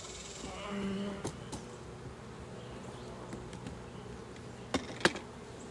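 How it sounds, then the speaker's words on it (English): Honeybees buzzing around an open hive during an inspection, a low droning hum with a swell near the start, plus scattered knocks and clicks of hive equipment close by. "And there is a lot of bees here. There are a lot of bees."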